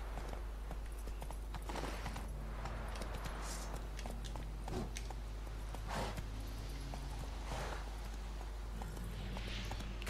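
A horse's hooves clip-clop at a steady walking pace in The Witcher 3 video game, soft and fairly faint over a low background hum, with no talking.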